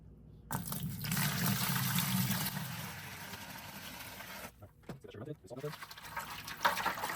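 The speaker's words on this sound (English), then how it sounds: "We're gonna add some water and we're gonna stir it up." Water poured into a turkey brine of salt in a container and stirred, a steady rushing splash that runs for several seconds and then gives way to softer stirring and clinking, with a voice talking alongside.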